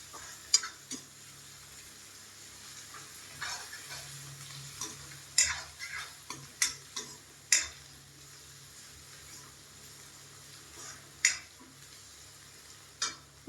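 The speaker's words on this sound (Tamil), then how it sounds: "நல்லா வதக்கிடுங்க. பொன்னிறமாக வர வரைக்கும் வதக்கணும்." Ingredients for rava kichadi are sautéed in a pan in a home kitchen until golden: a quiet, low sizzle broken by intermittent close clicks and scrapes of a spoon against the pan, with no talking.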